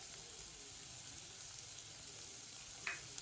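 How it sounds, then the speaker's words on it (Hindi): Thinly sliced onions sauté in a pan, giving a steady, soft, continuous sizzle with faint stirring and a brief clink near the end. "बस ज़्यादा भुनना नहीं है, बस सॉफ्ट कर लेना है कि प्याज सॉफ्ट हो जाए"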